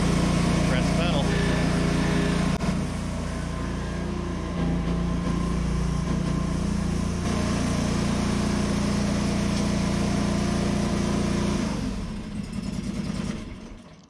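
A 1993 fuel-injected mini lawn tractor with hydrostatic drive idles and runs steadily at close range, a continuous loud engine drone that holds for most of the clip before dropping and sputtering near the end.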